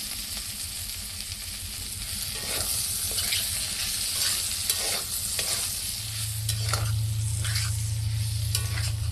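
Sweet pumpkin frying in a pan hisses with a loud, steady sizzle, broken by repeated scraping strokes as it is stirred, with a low hum joining partway through.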